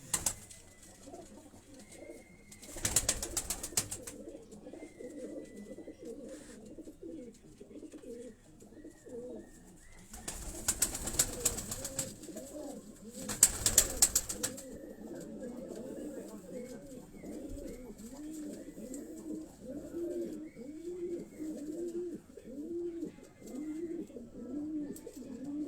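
Pigeons, high-flying Quetta breed, coo in repeated soft rhythmic phrases close by, with brief bursts of louder noise and a faint voice in the background.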